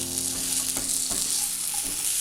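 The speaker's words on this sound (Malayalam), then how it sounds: "പഴവും കൂടി ചേർത്തിട്ടൊന്ന് ഇളക്കി കൊടുക്കാം." Sautéed banana pieces stirred in a frying pan, a constant bright sizzle with a few soft scraping strokes of the spoon, close and steady, no voices.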